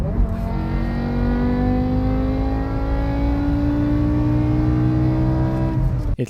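A BMW M5's V10 engine revs hard and climbs steadily in pitch over several seconds, a loud, close, continuous howl with no talking.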